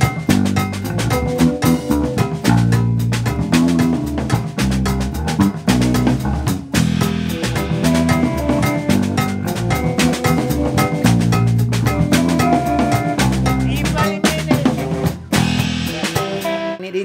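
Full band groove from a cover, with steady drums, bass and keys playing a dense, loud rhythm throughout with no talking.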